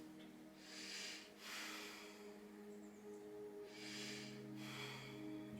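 Two slow, full breaths during a gentle yoga pose, each a soft airy rush of inhale and exhale, close and quiet with a low steady hum underneath and no talking.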